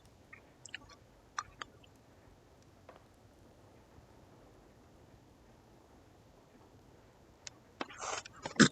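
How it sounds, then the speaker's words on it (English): Quiet, close crunching and clicking of something hard being chewed, sporadic at first, then a louder burst of crunches near the end. "make it a little bit harder for you to hear me chewing on a cough drop."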